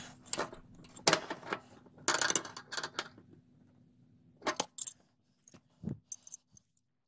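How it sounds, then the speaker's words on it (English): Metal wrenches working a brass flare fitting on a ductless mini split refrigerant line, a series of quiet close clicks, ratcheting and metallic clinks in irregular bursts, with no voices. "use another wrench to offset any torque that might damage the brass fitting side of the connection"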